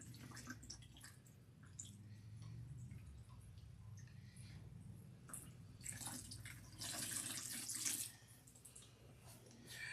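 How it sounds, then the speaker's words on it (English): Water runs from a tap while hair is being rinsed, a continuous close splashing with shifting gushes and some louder bursts as the flow hits the head, and nobody speaks. "When I'm rinsing, the water is now, coming out clean."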